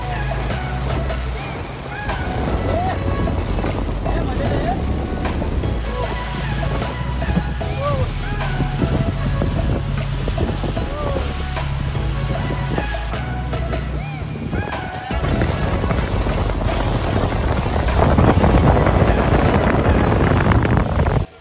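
A boat crossing choppy sea waves on the way to Khor Fakkan shark island: a loud, continuous engine roar mixed with rushing water and heavy wind buffeting the microphone, growing rougher toward the end.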